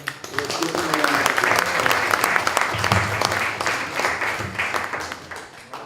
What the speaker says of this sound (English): Let's give them a round of